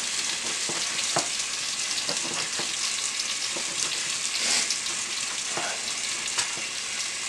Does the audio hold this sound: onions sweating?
yes